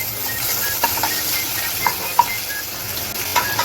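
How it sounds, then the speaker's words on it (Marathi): Kharda masala and onion fry in hot oil, giving a steady close sizzle with a few soft scrapes and taps of a spoon against the pan. "आणि मग त्यामध्ये कांदा टाकूया."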